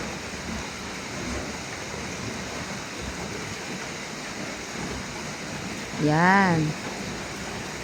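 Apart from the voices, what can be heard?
heavy rain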